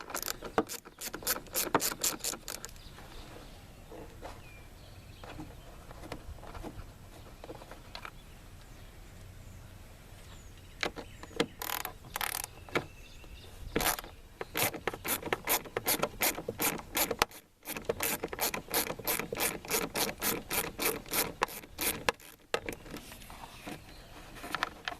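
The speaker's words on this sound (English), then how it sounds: "using an 8mm socket and a ratchet, I'm just going to go ahead and pull these out" A ratchet with an 8mm socket backs screws out of the rear brake light housing on a 2016 Ford Escape, giving bursts of quick, sharp pawl clicks separated by pauses, close up.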